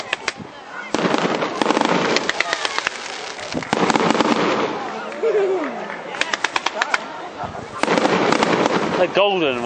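Firework rockets bursting one after another at Land's End, Cornwall, gold and blue, with sharp crackling pops and booms, close and loud, while excited voices cheer over them.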